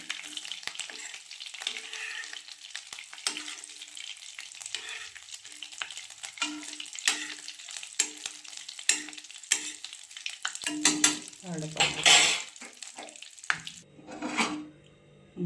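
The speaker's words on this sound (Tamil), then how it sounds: "நெய் நல்லா உருகிடுச்சு. வெண்ணெய் நல்லா உருகிடுச்சு." Butter melting down into ghee in a pan gives a continuous crackling fry that bursts into louder, denser sizzling toward the end, with a brief metallic clatter near the close.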